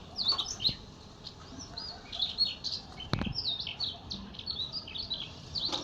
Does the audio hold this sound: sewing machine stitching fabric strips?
no